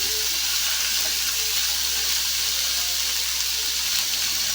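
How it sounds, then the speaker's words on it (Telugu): Chopped ivy gourd (tindora) and peanuts frying in a pan over medium flame, giving a steady, even sizzle that holds throughout without pause. "మీడియం ఫ్లేమ్లో వేయించుకుందాం."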